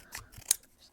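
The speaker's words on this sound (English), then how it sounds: "And I'm going to cut it into some strips." Scissors snip through a strip of thick Nomex insulating sheet, a few short crisp cuts with one sharp louder snip near the middle, close and quiet with no talk.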